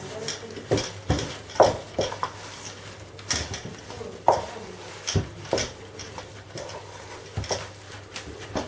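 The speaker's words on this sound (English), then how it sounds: "you can just mix it like this because it's fairly sticky and loose" Sticky, loose soda bread dough mixed by hand in a bowl, irregular knocks and scrapes of a utensil against the bowl with soft wet stirring between, close and unaccompanied by talk.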